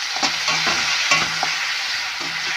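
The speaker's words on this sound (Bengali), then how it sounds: "কাজুটাকে ভালো করে একটু ভেজে নেব।" Cashews and raisins fry in a pan with a constant close sizzle, broken by the scrape and clatter of stirring at an irregular rhythm.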